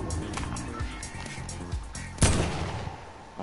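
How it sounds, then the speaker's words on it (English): Fireworks exploding in Fortnite, a sharp loud bang with a short crackling tail standing out over busy game sounds and scattered smaller pops. "Oh, fireworks."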